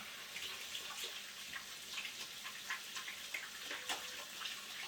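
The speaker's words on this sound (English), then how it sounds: "let me just wash my hands here really quick" Tap water runs steadily into a kitchen sink while hands are washed beneath it, a soft, close, continuous splashing with small irregular bursts.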